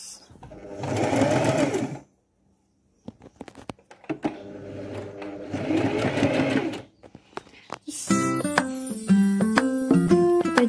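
A sewing machine runs in two bursts of stitching, about two seconds apart, while a baby pillowcase is sewn. It is close and fairly loud, with a brief quiet gap between the runs. Bright musical tones follow at the end.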